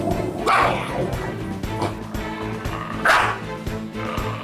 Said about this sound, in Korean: 이빨까지 드러내며 짖는 조아.